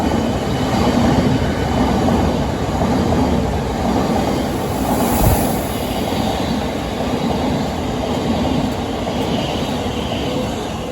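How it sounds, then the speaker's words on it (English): A City Beam train rolls past in London's Lewisham area, a loud, continuous rumble of wheels and carriages held close for several seconds, with a brief sharp squeal near the middle. "I love those trains."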